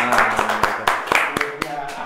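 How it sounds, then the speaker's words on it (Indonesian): A small audience claps in loose, uneven bursts of about eight sharp claps over two seconds, close and distinct rather than a full ovation, with a low voice humming along underneath. "tepuk tangan dong"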